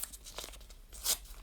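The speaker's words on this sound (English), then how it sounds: "we're using our hands to rip up these bits of soaking paper" Hands ripping up soaked paper for paper clay, soft wet tearing and crunching in a few short bursts, quiet and close, with no voices.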